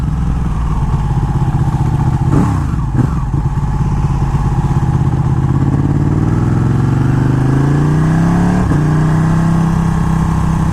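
Ducati superbike with a 200 hp engine revs hard and close, its pitch rising and dropping through quick-shifter gear changes, the engine note running steadily and loudly throughout.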